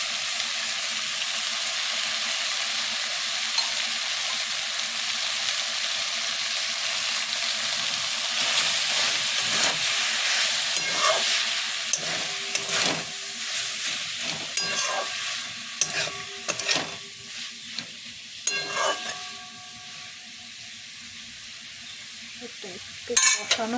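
Boiled, mashed banana flower (mocha) hits hot spiced oil in a pan for niramish mochar ghonto, giving a steady close sizzle with stirring scrapes and clatters that grow busier toward the end; no talking.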